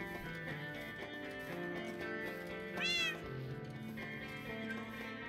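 A cat meows in the Minecraft modpack Modern Skyblock 3, one rising and falling game meow over continuous background music.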